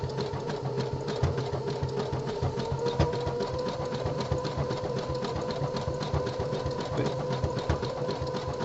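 A home sewing machine stitching the body panel of a pair of boxer briefs runs in a steady, continuous mechanical whir with a rapid ticking rhythm, close and even throughout.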